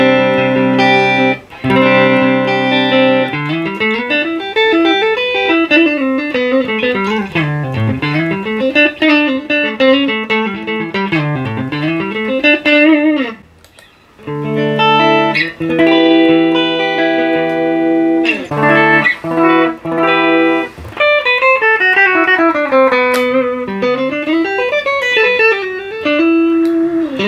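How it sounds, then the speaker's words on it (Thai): Electric guitar played live through an amp before a circuit modification, loud and continuous with melodic runs, bends and sustained notes, a brief pause mid-way, with no voices. "ผมจะเล่นเสียงให้ดูนะครับออกจากหน้าตู้แอมป์สดๆนะครับ"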